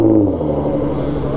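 A Nissan GT-R sports car engine gives a loud, close, deep droning rev that dips slightly in pitch and then holds steady for just over a second, with no talking over it.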